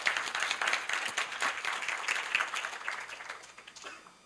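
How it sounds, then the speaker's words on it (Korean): An audience at a Korea University business school event claps steadily for a few seconds, the applause fairly close and full before gradually thinning out. "박수로 맞아주세요."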